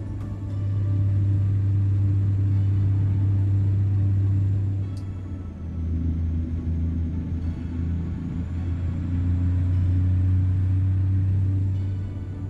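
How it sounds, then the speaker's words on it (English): An older logging truck with a manual transmission drives in the Pacific Northwest, its engine a steady, loud low drone heard from inside the cab, dipping briefly midway as if between gears, then resuming its hum. "how much I've actually been enjoying driving this older truck with a proper manual shift"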